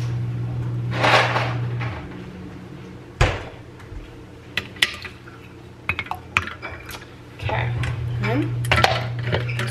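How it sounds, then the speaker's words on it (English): Ice clinks and clatters into a glass of orange juice drink in a home kitchen, a series of sharp knocks and rattles between quieter pauses, with a low hum underneath. "I'm gonna put a little bit more ice in it"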